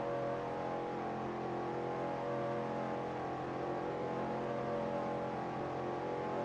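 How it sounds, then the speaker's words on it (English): A NASCAR race car engine drones at high revs in a steady, strained tone, loud and unbroken across the whole stretch with no talk. "The engine just does not sound happy, though."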